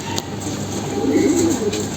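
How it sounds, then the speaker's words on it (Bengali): Low, throaty cooing from a rare red-cumin Armi pigeon, a steady rolling coo swelling in the middle of the clip with faint background noise and no talk. "লাল জিরার কবুতর এগুলা বর্তমানে সময় কিন্তু অনেক রেয়ার একটা কবুতর"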